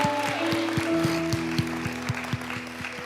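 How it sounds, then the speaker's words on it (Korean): A church congregation claps in an even, steady rhythm over sustained organ-like musical tones, the sharp hand claps landing at regular intervals throughout. "새로운 10년을 주님께 드리며 우리 꿈을 꾸며 하나님께 영광 박수 올립니다"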